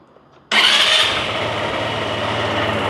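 A scooter engine cranks and catches abruptly after a quiet moment, then settles into a steady, close idle with no throttle applied.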